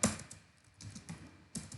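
Typing on a computer keyboard, a few soft key taps in small clusters, close and quiet with no voices.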